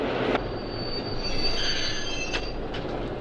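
A train in the 1967 film In the Heat of the Night rolls past with a continuous metallic wheel squeal over a low rumble and rail clatter, loud and close, with no talking.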